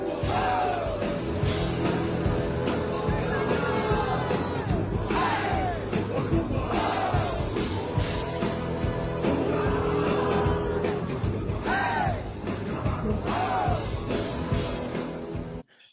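A rock concert crowd yelling back in call-and-response participation, repeated bursts of massed shouting and whoops over loud band music, rising and falling in waves before cutting off.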